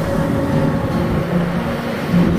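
A freight train passes through a railway station, giving a steady loud rumble and rolling wheel noise with a low hum throughout.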